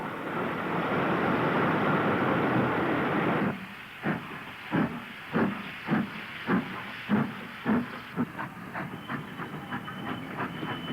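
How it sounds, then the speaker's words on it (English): Steam locomotive 45025 departs a station platform with an express parcels train: a continuous loud hiss of steam first, then the sharp rhythmic exhaust beats quickening as it pulls away. "45025 arrives from Manchester into Platform 3 with an express parcels working and departs for Preston"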